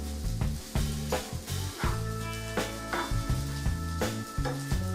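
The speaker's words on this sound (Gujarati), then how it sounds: "1 થી 2 મિનિટ માટે તેને હલાવીને શેકીશું।" Sabudana (sago) is stirred and roasted in a pan over low heat, giving a soft sizzle under rhythmic scraping strokes of a spoon against the pan, close and moderately quiet, with no talking.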